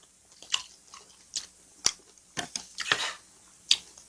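Eating a whole shrimp with the head left on in a close-miked mukbang, giving several separate crunchy bites and chews spaced irregularly, crisp and near, with no talking.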